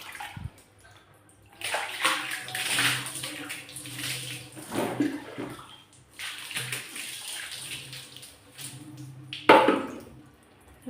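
Water splashes and pours in bursts while dishes are soaked and washed with water from a bucket, with clattering of utensils between louder gushes.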